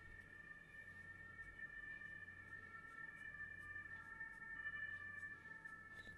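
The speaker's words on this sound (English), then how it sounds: "And we have this sirens like every day." Emergency sirens wail outside in a city, faint and distant through a window, a steady sustained tone over low background hum with no talking.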